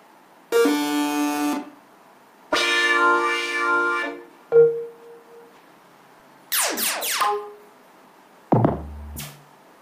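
First preset sounds on a Novation Circuit synthesizer, several short bursts of buzzy tones and swooping pitch sweeps separated by silence, heard alone.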